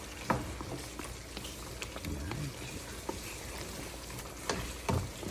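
Pork kaldereta stirred in a pan: a soft, steady sizzle with scattered scraping and clinking of the spoon against the pan, a few louder knocks near the start and end.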